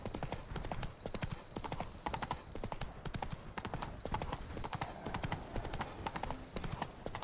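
Video game horse hooves clip-clop in a fast, steady trot that runs continuously at moderate volume while riding, with no pauses.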